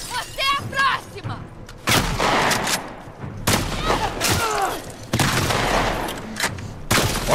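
Rapid bursts of gunfire in The Last of Us Part II, loud and repeated in several volleys, with an explosive thump mixed in.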